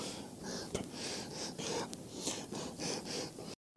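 Heavy rhythmic breathing, close to the microphone, with repeated audible inhales and exhales in a steady pattern before cutting off abruptly; no talking.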